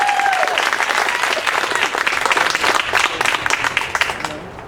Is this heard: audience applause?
yes